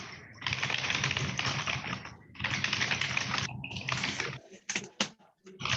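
Loud computer keyboard typing comes through a smart speakerphone on a conference call, rapid clattering bursts of keystrokes in several long runs broken by short pauses, ending in a few scattered taps.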